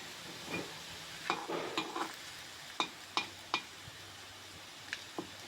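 Garam masala and a bay leaf frying in oil in a wok alongside potatoes for a bottle gourd and potato curry: a soft background sizzle broken by several distinct stirring scrapes and clinks, close by.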